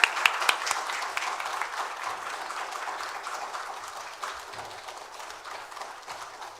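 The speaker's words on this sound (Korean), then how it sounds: "우리 목사님 나오실 때 환영하는 마음으로 크게 박수 치면서 할렐루야 하고 맞이하도록 하겠습니다" A church congregation claps together to welcome the pastor, a dense, steady wash of applause that starts strongest and slowly thins, with no speech over it.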